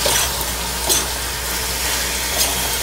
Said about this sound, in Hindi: अब हम इसको धीरे धीरे चलाएंगे।